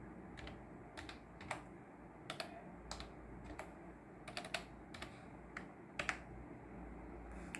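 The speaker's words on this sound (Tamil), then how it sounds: "டைப் பண்ணிட்டு லாகின் கொடுக்குறேன்." Quiet, irregular key clicks from a computer keyboard as a login password is typed, a sparse run of light taps with short pauses, close by and alone over a low background hiss.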